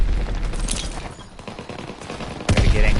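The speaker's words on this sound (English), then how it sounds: "But it shoots super fast. It's like a close range SMG." A fast-firing close-range SMG in Call of Duty: WWII rattles in loud, dense automatic bursts, with a sharp, heavy blast near the end.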